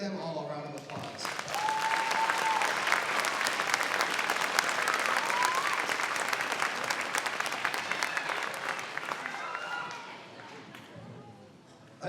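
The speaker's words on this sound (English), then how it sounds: "So let's give them all a round of applause." Audience applause at an elementary school beginning band concert: a sustained wash of many hands clapping for about ten seconds before tapering off, with murmured voices underneath.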